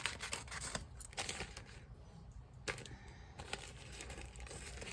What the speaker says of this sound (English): I folded them like this. I trimmed off the sides.